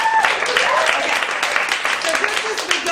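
Audience clapping at a group workshop session, a steady wash of applause filling the room for a few seconds, fairly loud and close, with some voices mixed in.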